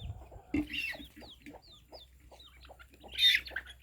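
Guinea fowl and chickens squabble, their scattered clucks and sharp squawks breaking out in bursts close by.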